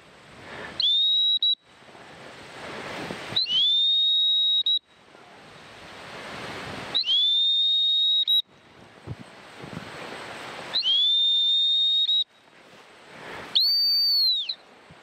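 A shrill whistle sounds five times, each a long steady blast separated by pauses, with wind and rustling between the blasts.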